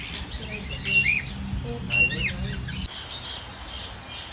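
Pet canary and turquoisine parrot chirp and tweet in a home setting, with bright scattered calls over a low background hum that cuts out partway through.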